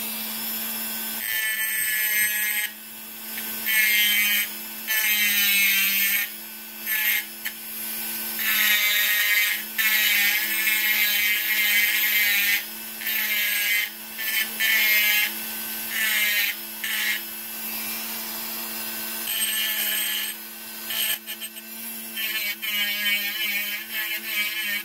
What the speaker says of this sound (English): So I just got a little grinder wheel on this Dremel, and I'm going to take it down.